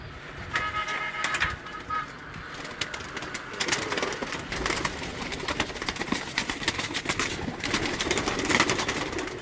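Pigeons at a breeder's loft in Gujrat coo and rustle amid busy, crackling background noise, with steady clutter throughout and no clear talk.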